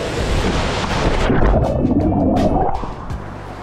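Waterfall pouring into a small, deep rock pool at a cliff-diving spot in Spain, a dense churning roar with splashy gurgles that thins out near the end, close and loud with no voices.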